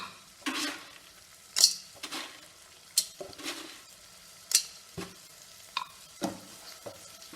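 A methi upma mixture of boiled tur dal and fenugreek seeds is stirred in a pan with a spoon: close, irregular scraping strokes and a few sharp clinks against the metal, with a soft sizzle between them.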